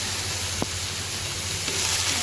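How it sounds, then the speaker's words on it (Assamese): Vegetables frying in a pan make a steady, quiet sizzling hiss, with a couple of brief clicks of utensils against the pan. "চব্জিখিনি অলপমান ভাজি লওঁ"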